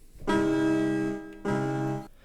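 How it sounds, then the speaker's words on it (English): Stock Bitwig grand piano layer run through effects, two sustained chords, each ringing for about a second with a warm, slightly lo-fi tone, fairly quiet and alone. "I've added a grand piano layer in"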